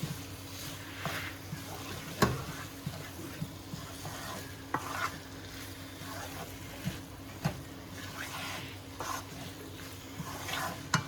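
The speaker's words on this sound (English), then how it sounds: "I'm going to be adding my peas. Give it a mix through." Peas are stirred into crushed potato filling for samosas in a pan, with a soft steady sizzle and repeated scraping strokes and occasional sharp spoon knocks against the pan, close and fairly quiet, with no talk.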